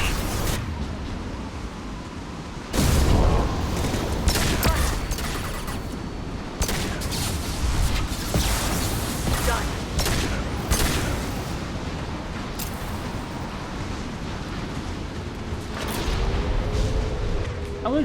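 Gunfire and a flashbang in a Mass Effect 2 firefight, with loud bursts of shots and a sharp blast, dense and continuous with brief pauses, under a spoken voice.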